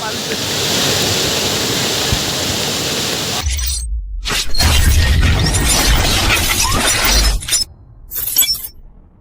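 Heavy rain falls beside a flooded river during a downpour, a dense, steady roar of water that keeps going, joined partway through by closer crackling and clattering bursts.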